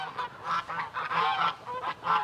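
Geese honk repeatedly on a pastured chicken farm, a string of loud, close nasal calls in uneven bursts with short gaps between them, and no talking.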